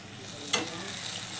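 Kolmi greens fritters fry in hot oil with a soft, steady sizzle, broken by one brief sharp crackle partway through; no talk.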